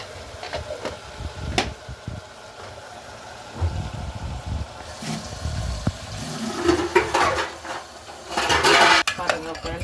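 Curry with salt, chilli powder and oil stirred in a pan makes scattered metallic scrapes and clinks, a spoon clattering against the pan in irregular bursts that grow louder and busier toward the end.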